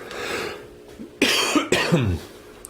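A few harsh coughs burst out close by after a stretch of quiet background noise, loud and abrupt.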